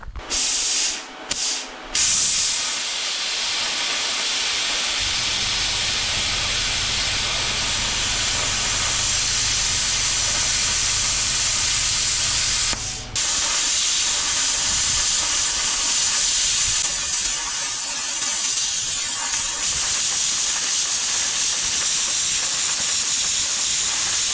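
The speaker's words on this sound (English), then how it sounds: "designed for plasma cutting, and we are going to follow this piece of angle iron and push the nozzle right against it" A plasma cutter slices through a piece of angle iron, producing a loud, steady hiss and roar that runs almost unbroken from start to finish, with a deeper low hum layered in partway through and a few brief interruptions at the start.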